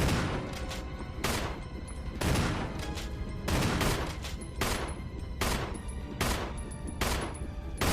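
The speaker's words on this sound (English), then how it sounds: "So we're gonna fire off the 6 rounds" Six rounds fired in Resident Evil HD Remaster, loud gunshots spaced roughly a second apart with a lingering echo between shots and no voices.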